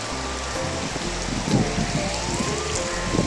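Heavy rain pouring down on a street, a dense steady hiss of drops hitting the surface, close and continuous with no talk.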